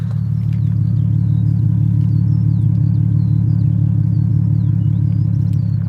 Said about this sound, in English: let's have a quick listen to the burble